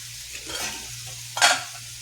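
Food frying in a pan, a soft steady sizzle with two bursts of stirring, the second louder and sharper, close by.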